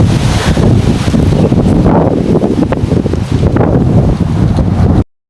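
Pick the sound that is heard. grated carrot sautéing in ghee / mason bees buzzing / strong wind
strong wind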